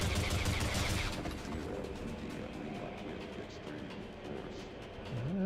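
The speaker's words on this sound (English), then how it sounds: "let's see if these silenced pistols do anything" Silenced pistol fire in the Brutal Half-Life video game, a dense burst of muffled shots mixed with game clatter and ambience at a steady loud level, with a faint voice in the background.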